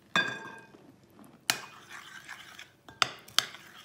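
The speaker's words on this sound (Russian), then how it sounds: "И месим до густоты сметаны." Potato pie batter is mixed in a bowl, giving a few sharp utensil clinks and scrapes against the bowl with quiet pauses between strokes.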